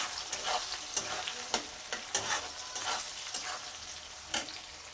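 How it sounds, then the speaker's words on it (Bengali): Two chopped onions fry in already-hot oil while being stirred. A soft, steady sizzle carries repeated sharp scraping strokes at an uneven pace, with no talking. "তেলটা গরমই আছে অলরেডি, পেঁয়াজটা নাড়িয়ে নিচ্ছি।"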